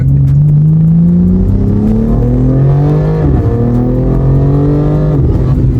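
A 700hp BMW G80 engine revs hard, climbing in pitch, briefly dropping as it shifts, then climbing again, loud and close with no talking.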